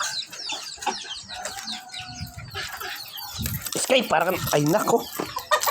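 Backyard chickens cluck and squawk at feeding time, with wings flapping and birds chirping around them. A person talks over the flock, and the noise grows busier toward the end.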